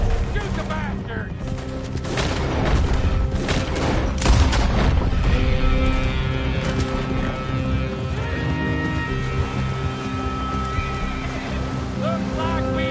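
Gunfire crackles through a busy Red Dead Redemption 2 shootout, mixed with horses, hoofbeats and music, with voices shouting over the loud, continuous action.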